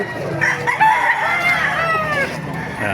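Several roosters crow over one another at a busy chicken market, loud and close, with clucking and crowd murmur behind them.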